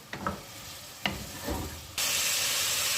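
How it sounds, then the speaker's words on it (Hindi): Chicken pieces frying in a pan for a spiced achari gosht: a couple of stir scrapes, then a loud, steady sizzle bursts up and fills the last second, close and alone. "आप चिकन को इतना फ्राई कर लें कि उसका जो कलर है ना वो चेंज हो जाए।"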